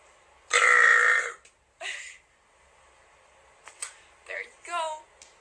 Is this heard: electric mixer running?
no